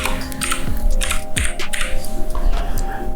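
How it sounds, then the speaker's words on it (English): Brisk typing on a computer keyboard during work in Adobe After Effects, a close, loud run of clustered key clicks with a few heavier thumps, alone without speech. "So I'm gonna go right now and type in"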